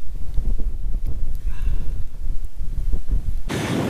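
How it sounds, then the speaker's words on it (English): Strong cold wind blowing across a frozen lake during ice fishing, loud buffeting gusts rumbling against the microphone throughout, swelling into a harsh roaring blast at the end. "the wind is just blowing, making it miserable"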